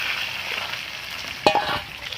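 Fried pointed gourd pieces sizzling in a pan of hot oil with poppy seeds, dried chillies and five-spice seasoning, a steady crackling fry with a sharper burst and clatter about midway as pieces drop in.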